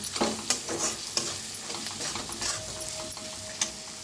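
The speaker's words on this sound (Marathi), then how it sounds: "आता याला छान भाजून घेऊया। मस्त असं भाजायचं बघा।" Cluster beans (gavar) roast in a pan with ground coriander and spices, a soft continuous sizzle broken by repeated scraping stirs of a spoon against the metal, close and fairly loud.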